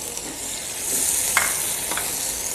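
Chopped onions and freshly added tomatoes fry in a pan for stuffed karela, giving a steady close hiss with a couple of brief scrapes, no one speaking.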